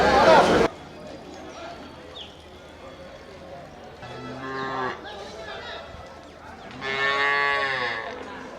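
Cattle at a busy cattle market in Melur give several loud, drawn-out moos close by, with people talking in the background.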